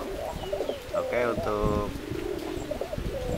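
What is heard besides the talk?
pigeons cooing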